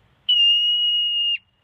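A single loud, piercing high-pitched marmot alarm scream holds steady for about a second, then cuts off abruptly, with no other sounds around it.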